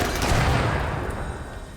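Colonists in the RimWorld video game fire their guns at a turret, a loud, dense fusillade of rapid overlapping gunshots rolling on without pause, with no talking.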